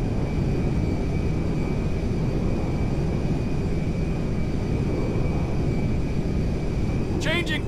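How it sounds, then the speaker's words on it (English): A cargo jet in Grand Theft Auto V flies with a loud, unbroken roaring drone that fills the whole stretch, ending with a brief high chirp. "Ronnie, the cargo jet is now part of the TP Enterprise fleet"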